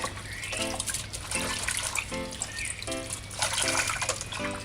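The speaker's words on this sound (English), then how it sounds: "So do as you see me doing and kind of rinse the broccoli." Broccoli is rinsed in a container of white vinegar water, with repeated sloshing, splashing and dripping in uneven bursts as the florets are swished by hand, close and moderately loud.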